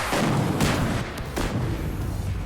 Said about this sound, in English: those 2 explosions went off perfectly at the same time